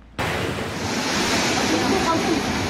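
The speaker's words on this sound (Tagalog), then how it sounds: "Napasigaw na lang ang mga tao sa mga hampas ng malalaking alon sa Baras, Catanduanes." Large waves crash loudly and continuously in a typhoon at Baras, Catanduanes, a dense roaring surf with wind noise that starts abruptly and stays steady and close throughout.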